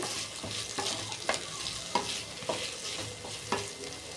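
Peas and green chilies are stirred into noodles frying in a pan, with a soft sizzle under a run of distinct spatula scrapes and clinks against the metal every half second or so, close by and with no talking.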